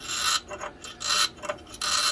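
Hand reaming rasps through a small gas orifice hole in a propane barbecue being converted to natural gas, several short scraping strokes, close up, with brief pauses between them and no talking.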